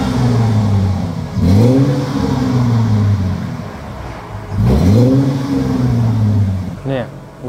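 A car engine with its catalytic converters cut out revs hard twice through an open, raspy exhaust, each rise in pitch falling back to a rumbling idle, loud and close, with a short blip near the end.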